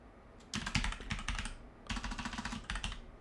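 Computer keyboard typing in two quick bursts of rapid, close clattering keystrokes with a brief pause between them, alone with no voices.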